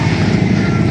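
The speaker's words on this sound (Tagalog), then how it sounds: "tunog po ng makina ng bangka" A boat engine on the water hums as a steady, loud motor drone with a throbbing pulse, filling the whole moment without any voices.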